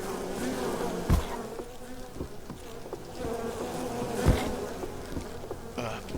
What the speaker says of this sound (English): Uh-oh, bees.